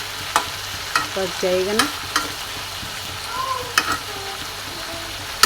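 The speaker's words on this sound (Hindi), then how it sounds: "फिर से भून दो, भूनते रहो भूनते रहो।" Chicken and pumpkin stir-fried in a pan, with a steady low sizzle broken by a few sharp scraping stir strokes, close by, while someone speaks briefly.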